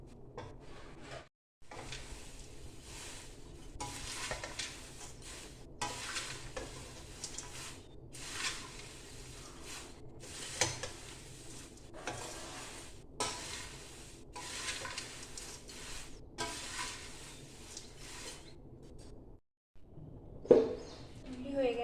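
A spoon repeatedly scrapes and stirs chire bhaja (flattened rice) in a pan on a low gas flame, turned off as mixing continues. The scrapes come in steady bursts, close and moderately loud.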